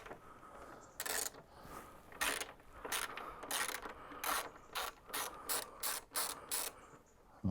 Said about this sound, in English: remove this top headlight screw